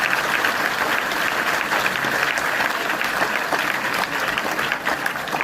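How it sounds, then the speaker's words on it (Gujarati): An audience at a school speech competition claps steadily and loudly for the whole stretch, a dense, even wash of applause with no voices rising above it. "સર્વને આપણે તાળીઓથી ખૂબ ખૂબ અભિનંદન પાઠવીએ છીએ"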